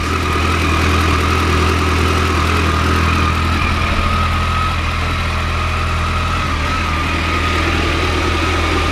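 A Kawasaki ZX14 motorcycle engine idles steadily as it warms up in a cool garage, producing a loud, even, close rumble with no gaps and no voices.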